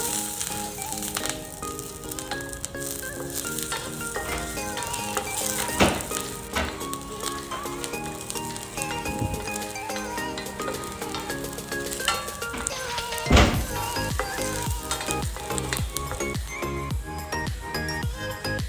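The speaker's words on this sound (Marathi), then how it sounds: "आपल्याला चांगलं तेलात परतून घ्यायचं आहे, कलर चेंज होईस्तोपर्यंत" Crushed garlic sizzling and frying in hot oil for a village-style garlic thecha, a dense continuous crackle with occasional louder pops and clinks of a spoon stirring, and no voices.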